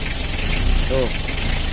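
Isuzu Panther diesel engine idling with a steady rough rumble and dense broadband clatter, close and loud throughout.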